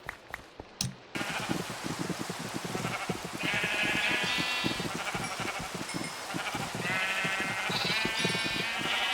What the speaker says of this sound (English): While we're over here, we might as well go ahead and shear the sheep.